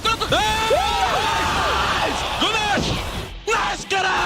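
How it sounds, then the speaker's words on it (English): Esports players erupt in loud, sustained screaming and whooping to celebrate a won team fight in a League of Legends grand final between G2 Esports and Fnatic. Several voices overlap in rising, falling yells that continue throughout. "When you know you've already won it, you just start screaming."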